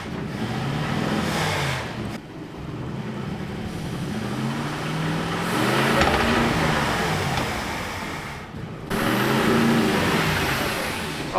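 A car engine revs and drops back repeatedly at close range, a mid-pitched motor rising and falling in uneven surges with brief lulls.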